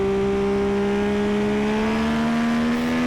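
A motorbike on a trackday at Donington Park, its engine held on throttle with a steady, loud drone whose pitch climbs slowly through a curve, close and without talk.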